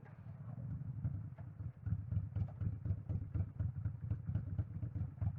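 A motorcycle engine idles at a traffic light with a steady low throbbing rumble and rapid pulsing beats, heard close and constant throughout, as if picked up through a rider's helmet headset.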